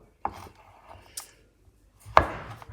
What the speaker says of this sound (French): il faut couper le chocolat